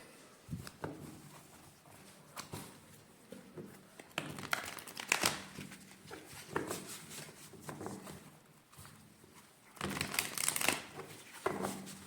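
Tarot cards being shuffled close up, with papery riffles and crinkly bursts coming in uneven waves and growing louder toward the end.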